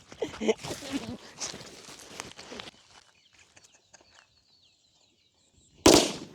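After a stretch of voices and shuffling, and then a quiet pause, a single sharp firecracker bang goes off near the end.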